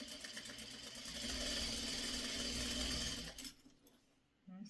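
Sewing machine stitching quilt block fabric from pre-cut Christmas tree quilt kit pieces, a soft continuous run of about three seconds that stops, followed by faint handling noises.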